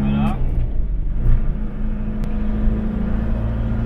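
A tow truck on the road, its engine rumbling steadily close by with a low droning hum that holds throughout.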